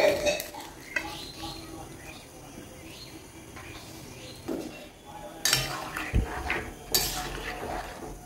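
Mangoes go into hot water in a wok, with clinks of a utensil on metal, a few splashes and bumps, and some scraping between quieter stretches.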